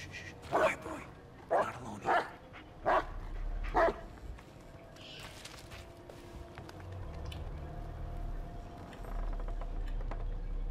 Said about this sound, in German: Hund hat irgendwas.